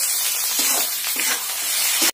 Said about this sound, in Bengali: কড়াতে সর্ষে তেল দিয়ে দিয়েছি, লবণ হলুদ মাছে মাখিয়ে নিয়েছি, কড়ার মধ্যে দিয়ে দেবো